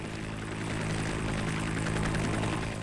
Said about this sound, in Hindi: विमानों से लेकर फायर ब्रिगेड की गाड़ियां आग की लपटों पर काबू पाने में जुटी हुई।